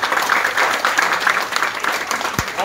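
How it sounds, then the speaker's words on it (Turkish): An audience at a breakfast gathering claps in a sustained round of applause, a dense steady patter of many hands heard from within the room, with faint voices mixed underneath. "Bir alkış kendinize lütfen."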